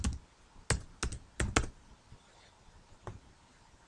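A password is typed on a computer keyboard: a few quiet, close key clicks in an uneven burst, then a final faint tap.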